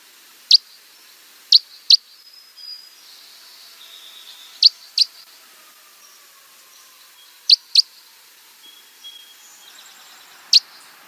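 Type 4 red crossbills give short, sharp click-like calls, singly and in quick pairs, spaced several seconds apart against a quiet, near-silent background.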